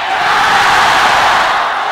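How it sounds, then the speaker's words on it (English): A home crowd at a lightweight world championship fight roars loudly and steadily, a dense wall of cheering and shouting with no single voice standing out. "Crowd going nuts, which we knew they would."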